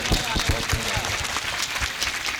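An audience at a Hindi comic poetry gathering claps in honour of a guest. The applause is dense and continuous with sharp individual claps, and a voice may sound faintly underneath.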